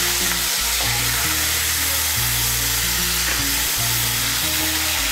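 Ginger paste sizzles and fries in hot oil as a spoon stirs it, a steady loud crackling hiss with recurring scraping strokes against the pan.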